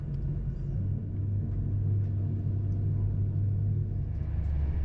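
A low, steady rumble rolls on without a break as an Avanti Pendolino train runs along the London to Manchester line, heavy in the bass with faint clatter above.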